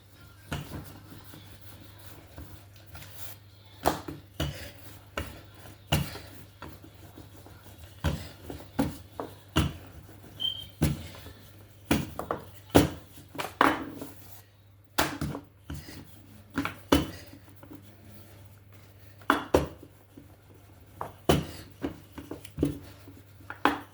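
Thin-crust pizza dough is rolled out on a counter: a run of irregular soft knocks and rubbing strokes, close and fairly quiet over a low steady hum.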